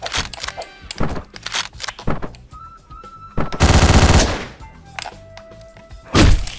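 Gunfire in the video game Hotline Miami: a sharp burst of shots amid scattered thuds and game effects, with a dense loud volley in the middle and another hit near the end.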